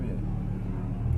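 An Audi R8 pulls away on the Issoire race circuit, its engine a close, steady low rumble that swells slightly at the end of the short moment, with talk in the car.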